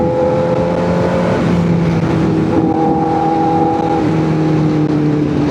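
Motorcycle engine revving up and down close by, loud, with shifting tones as the revs rise and fall over several seconds, no voices heard.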